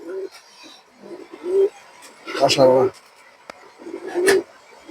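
Pigeons of an old bloodline, kept as fancy breeds, coo in a few soft rounded bursts close by, with a louder throaty stretch in the middle and a person speaking between the calls.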